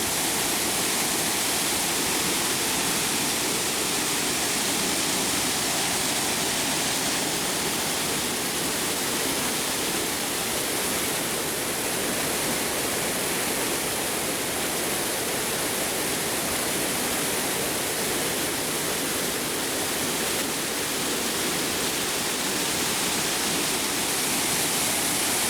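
A clear mountain stream near Muzaffarabad, Azad Kashmir, rushes in a loud, continuous, even roar of flowing water, close by, with no talk.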